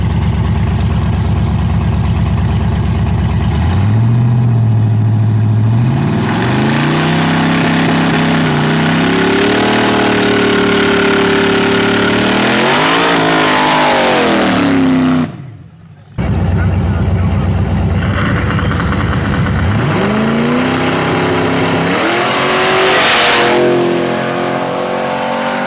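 Nitrous Chevy Nova and turbocharged Ford Fox body launch in a grudge drag race, engines roaring loud and close as they rev up through the gears, with a brief gap near the end before another car pulls hard, voices mixed in.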